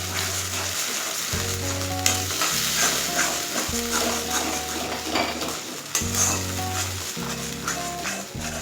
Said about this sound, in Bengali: তেলের সাথে ভালো করে মিশিয়ে নেব।